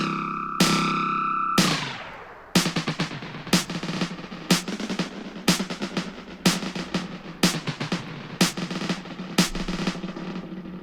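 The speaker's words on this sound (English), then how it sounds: "quad models the multi-head tape echoes of the 60s and 70s with up to 4 delay taps" Valhalla Delay in quad mode, modelling 1960s and 1970s multi-head tape echo with up to four taps, turning a short tonal phrase into a string of regular percussive hits with smeared tape-like repeats, close and fairly loud.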